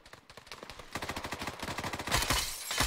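Rapid automatic gunfire in a military video game plays as dense bursts of sharp cracks, first sparse, then a steady rattling stream that grows louder and more chaotic toward the end.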